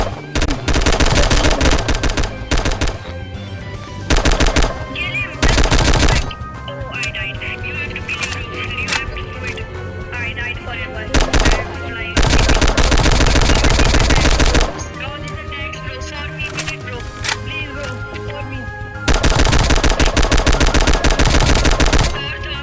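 Rapid gunfire rattles through a Roblox airport-defense game in loud automatic bursts, heavy volleys broken by short quieter stretches over a steady game soundtrack.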